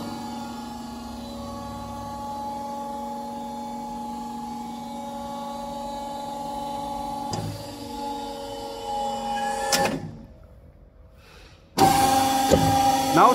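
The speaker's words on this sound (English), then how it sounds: "Now let's start the machine. Just press this button. The machine will close." A rubber vulcanizing compression molding press runs with a steady mechanical hum and whine, then clunks as it closes, falls nearly silent, and restarts with a louder motor drone near the end.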